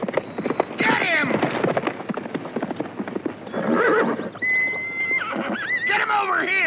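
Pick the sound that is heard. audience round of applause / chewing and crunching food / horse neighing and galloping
horse neighing and galloping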